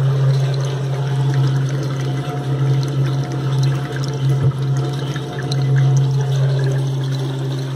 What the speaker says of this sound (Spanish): lo que hace es empezar a funcionar lo que es nuestra bomba de expulsión